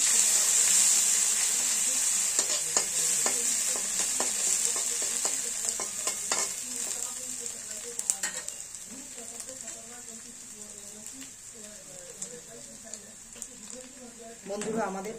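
Chopped ginger, garlic and green chilli sizzle in hot tempering oil, loud at first and gradually easing, with intermittent stirring scrapes and clinks close by; no speech over the frying.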